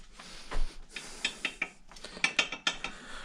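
A ratchet clicks in quick bursts while the turbo inlet is torqued down on a Honda Civic Type R FK8, close metallic ratcheting with short pauses between strokes and no talking.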